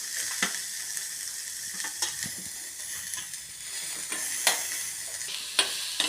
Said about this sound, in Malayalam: ഈ സമയം നമുക്ക് അരിഞ്ഞു വെച്ച സവോള കൂടെ ഇട്ട് കൊടുക്കാം.